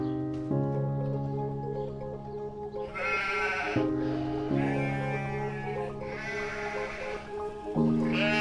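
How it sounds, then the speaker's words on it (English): Sheep bleating in a field outdoors in the morning, several wavering bleats in close succession, fairly near and clear over a steady background tone. "I just came to say hi to my friends, the sheep."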